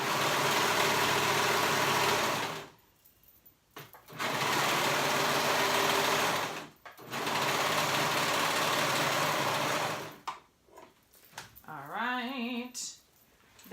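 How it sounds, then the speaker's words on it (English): A serger runs along a rash guard seam in three long steady bursts, a fast buzzing whir with brief pauses between runs, ending with a few clicks and a short spoken phrase. "I just like to use my serger because I find it quicker"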